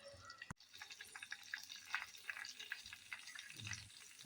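Mustard seeds and fenugreek frying in hot oil for a fish curry, a quiet crackling sizzle with scattered tiny pops and one sharp click near the start.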